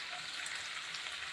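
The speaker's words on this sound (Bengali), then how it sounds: "এখন মশলাটা কষাই" Chili, turmeric, cumin and salt frying in a pan give off a faint, steady, even sizzle throughout, with no voices.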